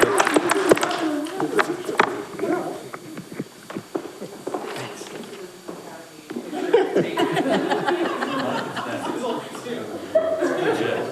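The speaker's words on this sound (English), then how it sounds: "One more round of applause for these people." Applause and clapping from attendees at a regular town council meeting, with scattered chuckles and talk mixed in, fading mid-clip then swelling again into a fuller round of clapping near the end.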